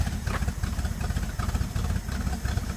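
A 1976 AMC Pacer engine idles steadily right after a carburetor cleaning, with no exhaust fitted yet: a loud, close, continuous low rumble with a rough, uneven pulse throughout.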